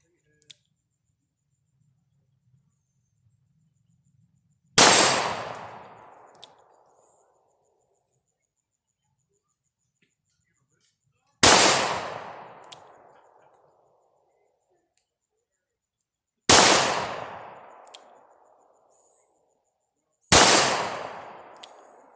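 A revolver fired two-handed in single action, four loud, sharp shots spaced several seconds apart, each with a ringing decay, in otherwise quiet surroundings.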